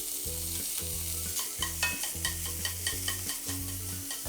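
Minced meat sizzling steadily in a frying pan alongside maitake mushrooms, a bright continuous hiss with periodic scraping stirs, close up, no talking.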